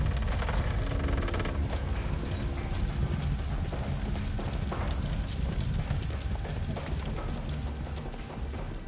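Horse hooves clip-clopping on a street in the Sherlock Holmes: The Devil's Daughter video game, a continuous stream of close hoof beats over a dense, rain-like wash of street ambience that holds steady throughout.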